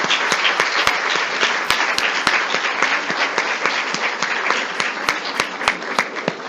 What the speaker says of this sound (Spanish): Le vamos a brindar un aplauso al doctor Daniel Jorge Bracaloni.